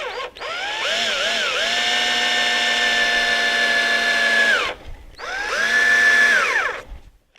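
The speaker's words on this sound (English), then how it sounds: "I also have a center drill which will help position and start the hole" Power drill with a center drill starting a hole in metal while fitting original 1974 Preston Petty parts on a Yamaha RT3 360 Enduro: a steady whining motor run of about four seconds, a brief stop, then a second shorter burst, loud and close.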